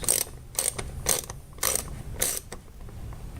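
A ratchet clicks in several short bursts as it drives a screw into plastic on a Toyota RAV4. The bursts come in a quick, even rhythm, close up and fairly loud, with brief pauses between them.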